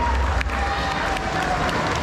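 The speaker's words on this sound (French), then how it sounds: "On applaudit bien fort Gisèle" An audience at a cosplay contest during a geek convention in Compiègne breaks into loud, dense applause and crowd noise, a continuous wash of clapping with a tonal hum running underneath.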